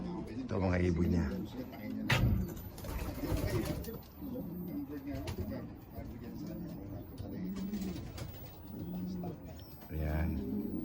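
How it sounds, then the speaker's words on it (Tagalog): Pigeons at a pigeon show giving repeated low, throaty coos, close by, with occasional chirps and clatter, while someone speaks over and between the calls. "Ito mga ibon niya."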